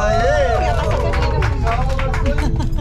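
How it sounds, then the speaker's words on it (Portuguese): Passengers on a passenger train clap for a bingo winner, a brief burst of hand claps under loud crowd chatter, rumbling train noise and voices talking over it. "palmas para ele"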